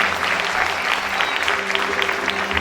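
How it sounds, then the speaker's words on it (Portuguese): Church congregation at a Sunday service applauding Jesus Christ, a dense, steady burst of clapping from many hands, close and loud throughout, with some voices mixed in. "pode aplaudir Jesus Cristo"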